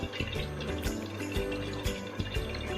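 Chicken stock cube dissolved in hot water being poured into a bowl for potato cups, a short splashy liquid pour with small clicks and drips, close and clear.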